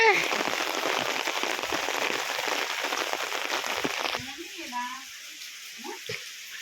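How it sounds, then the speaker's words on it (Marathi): Heavy rain hisses loudly on a surface in a village storm with wind, then the downpour drops off abruptly partway through, leaving quieter dripping and faint sounds. "अरे एवढा पाऊस पडतो"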